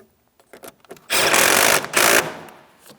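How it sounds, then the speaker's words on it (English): An 8mm-headed hose clamp on the air inlet tube of a 2007-2014 Ford Edge 3.5L is tightened. A few small clicks lead into two loud, close whirring bursts from a tool. "tighten your 8mm headed clamp."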